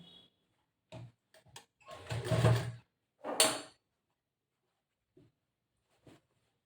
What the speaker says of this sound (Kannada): ಉಲ್ಟಾ ತಗೊಂಡು ಇಲ್ಲಿ ಮೇಲ್ಗಡೆಯಿಂದ ಸ್ಟಿಚ್ ಮಾಡ್ತಾ ಇದ್ದೀನಿ.